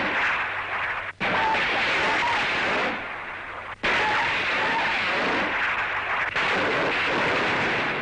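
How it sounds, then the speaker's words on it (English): Salvo of rocket launchers firing from a landing craft converted into a warship, a dense roaring rumble of blasts rolling on in long bursts broken by brief gaps, loud and close under a faint spoken commentary. "Landing craft equipped with rocket launchers becomes a mighty warship."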